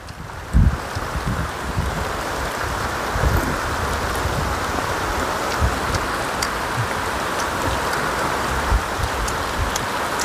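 Steady rain pours down in the mountains in a constant hiss, with a few heavier drops and soft thumps close by.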